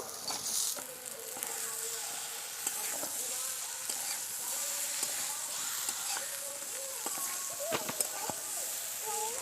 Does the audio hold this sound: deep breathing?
no